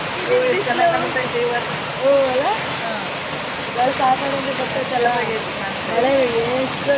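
Steady heavy rain hisses throughout, with a voice talking or calling over it in melodic bursts.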